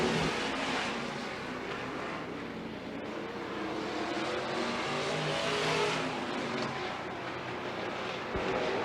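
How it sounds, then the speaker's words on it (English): Stock cars racing in the main event at the Douglas County Dirt Track: a loud, continuous roar of several engines at speed, rising and falling as the cars circle, with no talk over it. "Last trip around the Douglas County Dirt Track for the 14 tonight in your stock car main"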